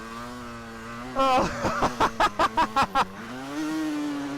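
A motorcycle in steep beach sand at the Malle Mile beach race idles, then revs in a quick run of about eight sharp, evenly spaced bursts as the wheel spins, close and loud, with a brief exclamation from a voice.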